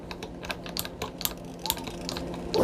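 Hand string winder turning a tuning peg on a Squier Bullet Telecaster, a quick series of close, light ratcheting clicks, with a louder knock at the end.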